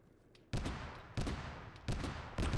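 Gunfire in the military shooter ARMA 3: four separate bursts of shots crack out at roughly even intervals, each a sharp broadband blast with a short decaying tail, over a quiet background.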